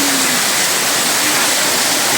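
Heavy rain pours down on a balcony at night, a loud, dense, unbroken rushing wash of water filling the whole stretch.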